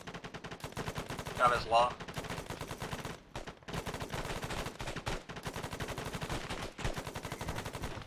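Marine platoon live-fire training with rapid machine-gun bursts, loud and sustained, briefly pausing before the firing resumes, while men call out commands under the gunfire.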